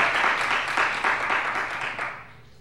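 A church congregation applauding during a worship service, a dense wash of many hands clapping at once, loud and sustained before tapering off near the end.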